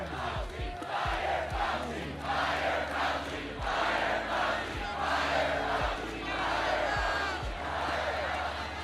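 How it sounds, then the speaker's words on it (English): A large crowd at a Trump rally chants in unison to fire Dr. Fauci, a rhythmic repeated group shout pulsing steadily over a heavy low drumbeat, rousing and loud as if heard from within the arena. "just listen to the crowd at one of Trump's last rallies chanting to fire Dr."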